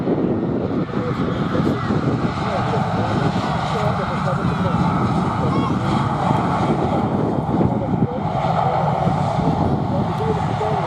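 An easyJet airliner at London Luton Airport on a windy afternoon, a sustained, rumbling engine roar mixed with gusty wind buffeting, staying fairly loud from beginning to end.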